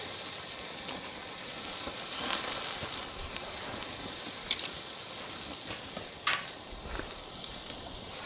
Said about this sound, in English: we're going to give these a sear, baby.